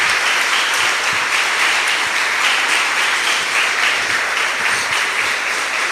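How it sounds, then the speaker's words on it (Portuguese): A church congregation claps continuously during a service, with dense, loud, steady applause that fills the whole stretch. "Então aplauda o Senhor."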